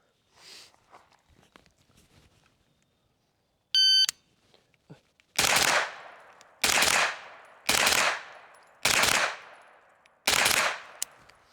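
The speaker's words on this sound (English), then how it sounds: "So it'll be just one beep, and then I'll shoot a set of 10 rounds, so 5 pairs" An AR-style rifle fires ten rounds as five quick pairs, each pair a loud sharp double crack with gaps between, starting shortly after a single electronic shot-timer beep; faint rustling comes before the beep.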